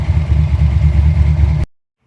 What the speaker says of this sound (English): It has been idling for quite a long time